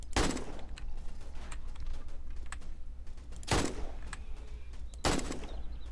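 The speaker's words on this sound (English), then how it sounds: "I think we need to dust him with the AK." An AK rifle fires in 7 Days to Die as three separate loud bursts spread across the clip, with quieter clicky game sounds in between.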